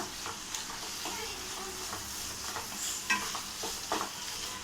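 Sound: stirring sautéed ivy gourd into onion-tomato masala

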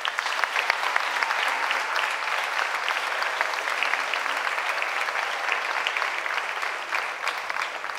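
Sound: applause for the ballet jury

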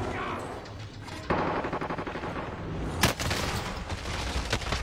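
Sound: gunfire in a video game

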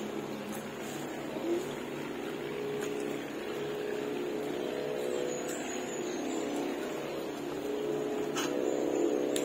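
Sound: boat and airplane noise near the airport

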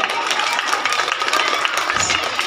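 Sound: audience applause

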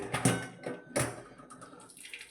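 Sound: water drained from cooked dal

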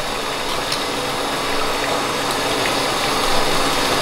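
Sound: water running through a counterflow wort chiller

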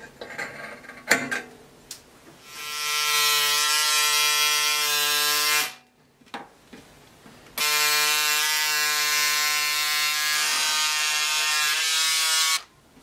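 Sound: cutting fabric for a blouse back neckline

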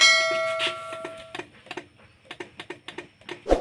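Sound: Honda Supra X 125 starter clicking from faulty starter coil

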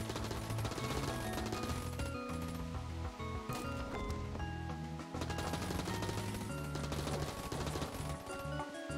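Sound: AK rifle gunfire shooting down trees in Enter the Gungeon video game

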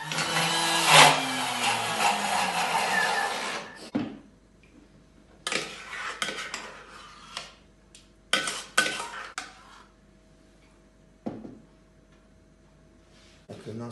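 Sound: household blender blending frozen orange, sugar and ginger

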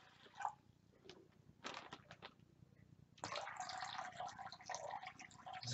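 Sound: water being poured into a bag

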